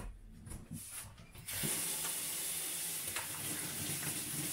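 Water pours steadily from a tap or jug, starting faint and swelling to a full, continuous splashing hiss that runs alone to the end.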